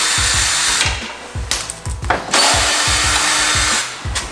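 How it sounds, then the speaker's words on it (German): A power screwdriver or drill removes screws from the front of a Smart 450 car, giving loud, close bursts of rhythmic whirring and ratcheting with brief clicks and metallic handling in between; no talking. "Wir nehmen vorne den Grill weg und schrauben diese Schrauben ab."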